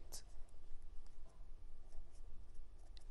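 A teacher writes on a classroom board during an accounting lesson, with a few brief chalk or marker scratches and taps standing out over steady low room noise.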